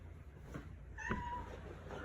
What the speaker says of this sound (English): Nah, don't meow me.